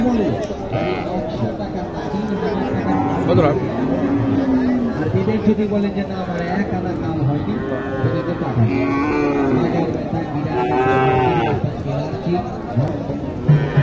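Cattle low and moo amid a busy Naogaon cattle market (Mataji haat), with bulls and calves on sale and crowd chatter and talk throughout.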